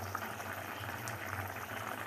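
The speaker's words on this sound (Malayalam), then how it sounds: "നമ്മുടെ കറി ഇവിടെ തിളച്ച് വന്നിട്ടുണ്ട്" Fish curry for fish peera bubbles steadily in a pot, a soft continuous simmering hiss close by with no talk over it.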